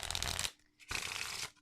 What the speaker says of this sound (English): I happen to love the sound of cards being shuffled.